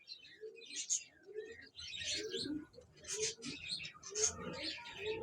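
A high-flying racing pigeon for sale at a pigeon club in Chishtian coos in repeated soft, close rolling phrases, with faint chirps overlapping throughout.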